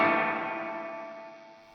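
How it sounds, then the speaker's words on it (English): Electric guitar chord played through the drive channel of a Friedman amp, struck once and left ringing. Its bright, sustained harmonics fade slowly. "if I play the guitar, you're going to hear the amp's straight tone into the drive channel of the Friedman"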